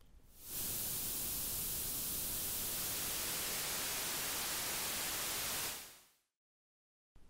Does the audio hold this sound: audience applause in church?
no